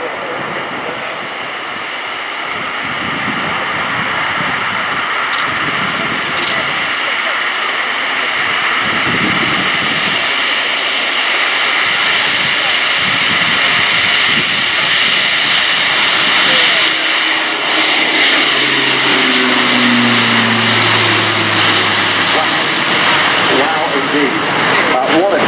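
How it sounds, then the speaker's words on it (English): An Airbus A400M Atlas military transport, four turboprops, taking off at an air show demonstration, a loud sustained engine roar that builds as it climbs, with a deep rumble and a pitch sweep near the end. "What a takeoff, demonstrating a huge power-to-weight ratio."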